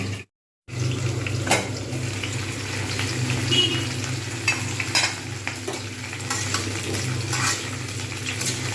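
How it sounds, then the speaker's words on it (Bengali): Flat beans sizzle steadily in a hot pan, broken by scraping stirs and occasional knocks of a utensil. "এটাকে একটু ঢাকনা দিয়ে ভাজবো একটু লালচে করে ভাজবো"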